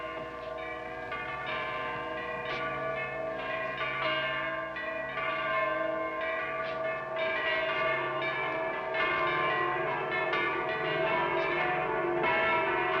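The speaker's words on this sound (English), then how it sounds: "Henry, tell the sexton to sound all the church bells" Several church bells ring together in a dense, continuous, overlapping peal with steady rhythmic strikes and no voices.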